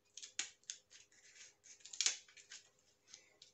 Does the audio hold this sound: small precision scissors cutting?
yes